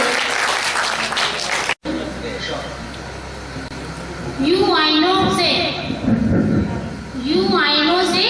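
An audience at an all-India mushaira and poetry gathering claps loudly for under two seconds. The applause stops abruptly, then a voice recites over a low background hum.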